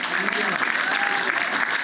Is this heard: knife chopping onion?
no